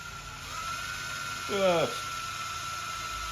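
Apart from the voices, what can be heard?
drill boring into take-down bow body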